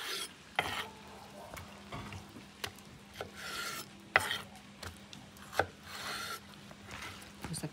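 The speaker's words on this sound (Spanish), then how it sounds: "Vamos a picar de esta manera." Roasted green chile is chopped on a board: a run of soft irregular knocks and scraping strokes, close and fairly quiet, with no talking.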